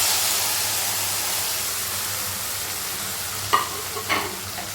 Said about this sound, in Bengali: একটু পোস্তটা আর সর্ষেটা এভাবে নাড়াচাড়া করে নিই